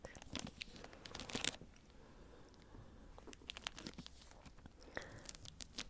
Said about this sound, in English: this is a library book, so it's wrapped in plastic.